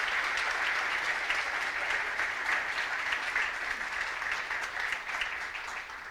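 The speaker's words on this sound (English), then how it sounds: "So let's have a round of applause for all our sponsors." Audience applauding the sponsors at the 2026 FOX61 Student News Awards ceremony: a steady, dense wash of many hands clapping that holds fairly loud for about six seconds and eases slightly toward the end, with no talk over it.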